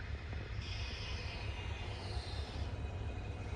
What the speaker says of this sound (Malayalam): ഡീസൽ ലോക്കോമോട്ടീവിൻ്റെ ശബ്ദം കേൾക്കാൻ തന്നെ എന്താ രസമല്ലേ